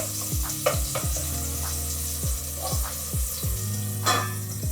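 Turmeric rice sizzles steadily in a hot pan while a spatula scrapes and stirs in a repeating rhythm during stir-frying; no voices.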